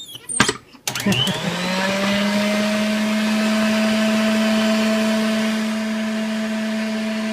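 An electric mixer whipping cream into homemade butter gives a steady, loud motor whir with a high tonal hum, preceded by a brief clattering start, and runs continuously to the end.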